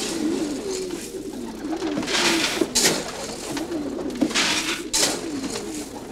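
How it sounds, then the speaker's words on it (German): Pigeons kept by a breeder coo steadily at close range, with low, rolling, repeated calls running throughout and occasional louder rustles or wing flutters. "Neben der Winzerarbeit züchtet er Tauben."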